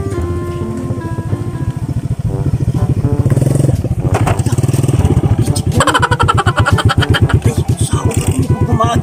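A motorcycle engine runs close by, a loud throbbing putter that rises into a harder, rapid revving pulse as it passes, with people talking over it.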